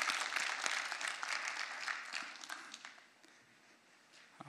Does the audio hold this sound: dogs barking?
no